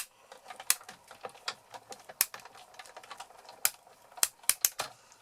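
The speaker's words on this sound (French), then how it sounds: "Les petits craquements sont normaux, c'est la pression qui se fait sur les plaques de découpe justement." A Big Shot die-cutting machine presses a die between cutting plates, giving faint, irregular crackles and sharp clicks in a quiet room.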